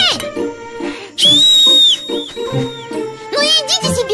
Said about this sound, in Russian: Ребята, ну-ка не свистеть!